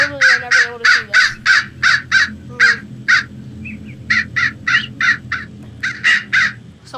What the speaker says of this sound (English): this is what the crow looks like when it's crowing.